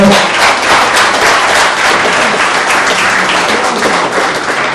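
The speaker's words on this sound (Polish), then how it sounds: "Ogromne brawa na Tomka" Steady, loud applause from a crowd at a karting season awards ceremony, honoring the 2010 category winner, sustained and dense throughout with no speech.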